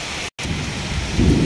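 Heavy rain with thunder during a sudden Kalahandi storm, a dense, loud hiss and rumble broken by a short cut of silence, then swelling stronger toward the end with wind.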